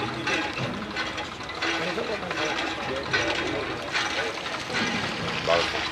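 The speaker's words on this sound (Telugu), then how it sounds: "చూడండి దీంట్లో ఎన్ని ఇంచు నీళ్ళు వస్తున్నాయి కొట్టు." Water gushes steadily from a pipe outdoors, a continuous broadband rush with voices talking over it.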